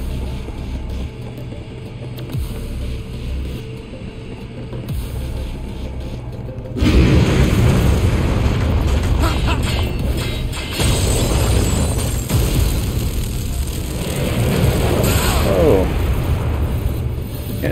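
In the action game Stranger of Paradise: Final Fantasy Origin, cannon fire booms and crashes in loud, dense bursts, with explosions rolling over a rumbling battle soundscape while a player talks over the noise.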